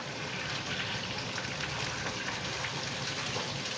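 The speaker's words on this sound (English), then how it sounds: "I'm gonna pour the rest of this water in here." Water pours into a pot of beef bones for broth, a steady hissing gush that runs close and constant throughout with no talking.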